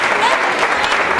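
Wedding guests applaud at a Turkish wedding ceremony, a dense, steady patter of many hands clapping at close range for the bride and groom.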